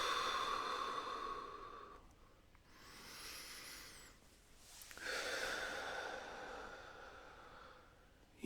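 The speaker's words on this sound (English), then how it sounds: "which is like deep inhalation" Slow, deep breathing, long airy inhalations and exhalations close to the ear in a quiet room, with a pause between breaths and no talk.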